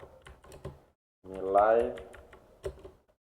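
Keys clacking in short bursts on a computer keyboard while Python code is entered, close and fairly quiet, with a voice talking around the taps.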